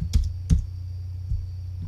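A few clicking keystrokes on a computer keyboard, three distinct taps spaced unevenly over a faint background hum, close by.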